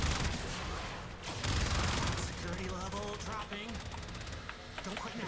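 Gunfire in the shooter game Warframe as a player fires on an armored enemy, rapid bursts of shots crackling in quick succession, with a voice talking over parts of it.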